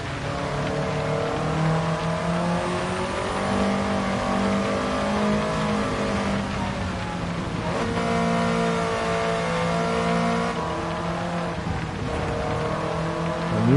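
Nissan S14 Silvia in Gran Turismo 7, engine steadily revving and droning with shifting pitch under load, loud and continuous throughout with no talking.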